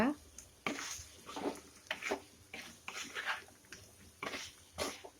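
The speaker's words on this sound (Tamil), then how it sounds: "இப்போ அதை சேர்த்துட்டு நல்லா இந்த மசாலாவோட நல்லா மிக்ஸ் பண்ணி விடுங்க" Fried raw banana being stirred into masala in a pan, with repeated scraping, stirring strokes about once a second over a soft sizzle, fairly close and moderately quiet.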